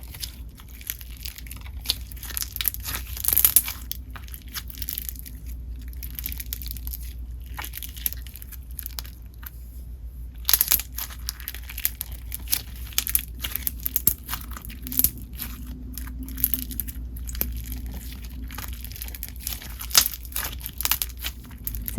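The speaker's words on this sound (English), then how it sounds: "These slimes are pretty crunchy and the bingsu beads do add some texture." Crunchy store-bought blue slime packed with bingsu beads is squeezed and pressed close up, giving steady crackling and popping crunches with sharper bursts throughout, and no talking.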